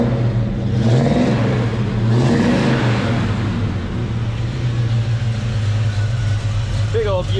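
A big Chevrolet El Camino engine revs hard on a dyno during a tug-of-war pull, a loud, sustained roar under an excited crowd shouting and talking throughout.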